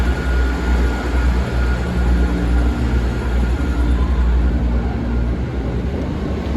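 A Class 158 diesel train, unit 158951, pulls away from Bath Spa station with a steady low engine rumble and rolling noise that holds throughout, fairly close and without speech.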